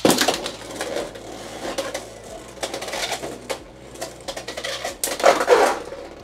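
Beyblade X spinning tops launched into a plastic stadium clatter and clash, a string of sharp close hits and scraping rattles with a steady whirring spin underneath.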